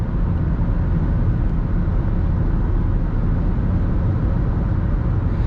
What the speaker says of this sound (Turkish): Yani yol sesi geliyor.